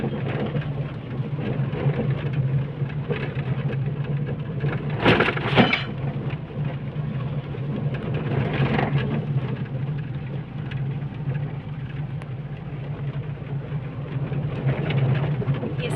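Steady rain pours over a market and tourist spot with shops on a misty, cloudy day, a constant wash of noise broken by a sharp thunder crack near the five-second mark and softer rumbling later.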